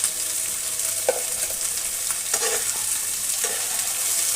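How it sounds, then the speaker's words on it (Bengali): Chopped, drained vegetables fry alongside browned onion in a pan, a continuous close sizzle broken by a few scraping stirs of a spatula. "কেটে রাখা সবজিগুলো জল ঝরিয়ে দিয়ে দিচ্ছি এবং একটু সময় নিয়ে ভালো করে ভেজে নেব"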